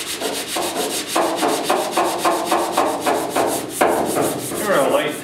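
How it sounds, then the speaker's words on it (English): Hand sanding on the cab of a 1972 Ford 4x4 short box truck during paint prep, a close rhythmic scratching of sandpaper with steady back-and-forth strokes, about two per second, with no talking. "if you don't do a nice job on your final sanding, it's not gonna look good"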